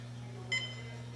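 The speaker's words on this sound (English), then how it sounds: "that beep represents 30 seconds left on the clock" A single short, bright electronic beep from the competition clock at a women's equipped World Sub-Junior and Junior powerlifting championship signals 30 seconds left, sounding once over a steady low hum in the hall.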